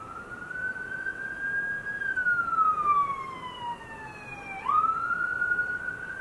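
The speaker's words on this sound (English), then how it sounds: "Yeah, you heard that ambulance?" A wailing ambulance siren sweeps up and down at moderate distance, alone without talk, its pitch dropping then rising again.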